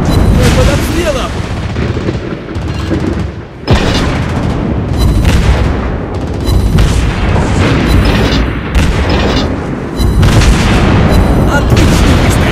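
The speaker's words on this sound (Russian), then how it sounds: "Мы под обстрелом." Heavy naval guns boom repeatedly from a battleship in World of Warships Blitz, loud deep blasts coming in several volleys over a dense battle din, with voiced game announcements in between.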